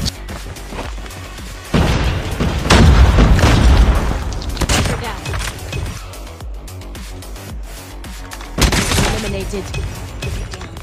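Sniper fire at a Call of Duty Mobile world championship match comes as booming, loud shots and heavy bursts under excited commentary, with a cluster of blasts early and another burst near the end.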